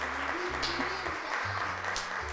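A studio audience on a Turkish children's talk show claps steadily while low tonal music plays alongside, the applause moderate and continuous throughout.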